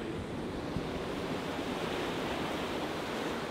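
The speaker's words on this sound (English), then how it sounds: "So the sea's coming in, splashing over these rocks" Sea surf breaking and splashing over rocks at Dunraven Bay beach in Wales, a steady, broad roar of waves with wind buffeting the microphone, continuous and fairly close with no voices.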